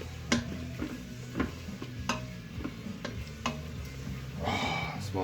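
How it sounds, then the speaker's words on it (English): Garlic being stirred in a hot frying pan for a homemade chicken curry: scraping spoon strokes against the pan over a steady sizzle, with the frying swelling louder near the end. "So give that a good stir, make sure it's all worked in"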